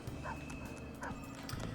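A dog barks a couple of times in the video game Persona 5 Royal: short yipping bow-wows layered over a steady game background hum, with no talking.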